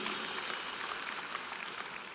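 Congregation applauding at a Spanish-language church service, a steady dense wash of hand claps filling the clip at moderate level with no talking over it.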